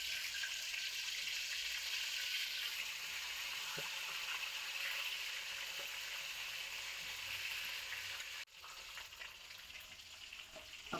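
Mackerel fish frying in hot oil with curry leaves, a dense steady sizzle that runs loud and continuous before dropping slightly softer near the end, with a few faint clicks.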